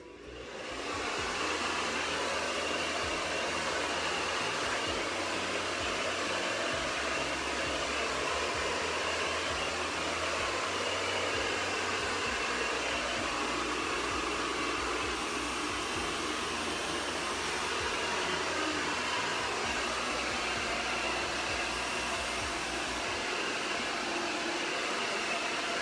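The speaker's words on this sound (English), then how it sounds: "So I always blow dry from the top, and I'm always like facing down to make sure that all the hair always goes down" A hair dryer blow-drying hair runs steadily and loudly throughout, a dense whooshing roar with a low motor hum and slight shifts as the airflow moves across the hair.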